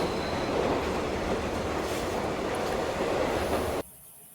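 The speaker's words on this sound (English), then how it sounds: "James was speeding along the line with his train" A train speeding along the line, a steady loud rushing rumble of wheels on track that holds evenly for several seconds before cutting off abruptly.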